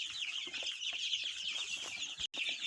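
Chicks on day 17 in a budget brooder heated by a single stove make a steady, dense chorus of high peeping, close and continuous, with no talking.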